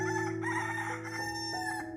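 A rooster gives a single full cock-a-doodle-doo crow, loud and close, with no other sounds around it.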